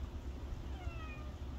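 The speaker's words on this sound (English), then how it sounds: "Oh, there's a meow." A cat gives a short, faint meow over a low background hum.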